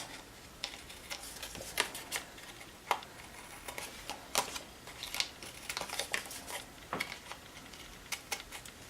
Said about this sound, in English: we're going to just cut off the extra piece.